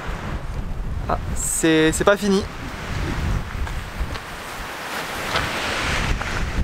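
Strong winter wind gusting over 100 km/h roars and buffets against the microphone in heavy gusts outdoors in Canada, with a brief voice cutting through partway.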